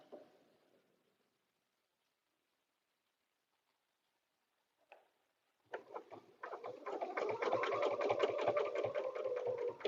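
A sewing machine stitches a butterfly paper-pieced quilted dresser scarf, starting after a long near-silent pause with a faint tap, then running in a steady, close, rapid mechanical rattle.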